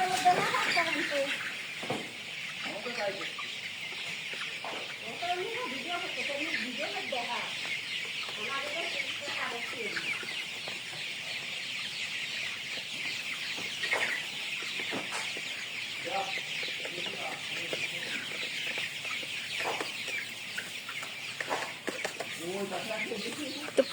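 Many chickens cluck and chatter together in a poultry shed holding thousands of birds, a steady, dense flock noise with occasional louder squawks standing out over a continuous background hum.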